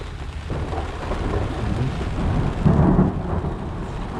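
Steady rain pours down while deep thunder rumbles continuously underneath, swelling louder near the end.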